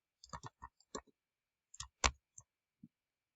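Typing on a computer keyboard, a quiet run of separate key clicks in small uneven clusters with pauses between.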